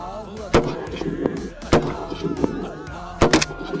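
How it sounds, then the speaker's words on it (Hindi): Shots from firearms at a shooting range crack out as a few sharp, loud reports spaced irregularly, with faint murmuring voices and background noise between them. "ये फायरिंग आप देख रहे हैं इस वक्त"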